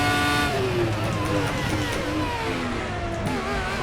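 Race car engine in RaceRoom Racing Experience, an FRX-17 open-wheeler at Hockenheim, screaming loudly and continuously with rising and falling revs through gear changes, close and dominant throughout.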